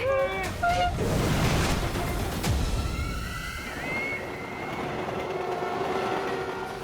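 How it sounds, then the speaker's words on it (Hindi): Two trains running on the same track, a continuous loud rumble with rising and falling tonal whines and horn-like tones layered over it, dramatic and steady throughout. "दोनों ट्रेन एक ही ट्रैक पे चल रही है"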